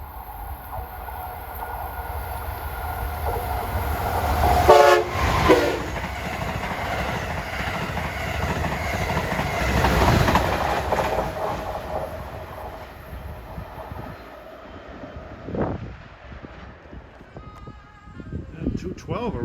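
Amtrak Acela Express train 2117, bound from New York to Washington, passes with a steady rolling rumble and rail noise that swells midway, punctuated by a brief horn-like tonal burst near the start and fading toward the end.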